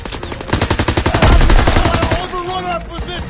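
Rapid bursts of gunfire ring out in a Call of Duty WWII battle, a machine gun rattling in a fast, loud stream that swells into a heavy barrage before easing under lingering echo and distant shouting.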